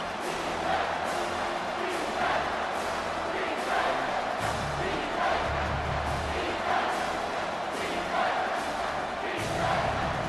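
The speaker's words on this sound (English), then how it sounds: "this crowd is tearing the lid off this place" A stadium crowd roars continuously through a college football video game matchup between Miami and Clemson, a dense, swelling wall of cheering with rhythmic chant-like pulses, loud throughout with no pauses.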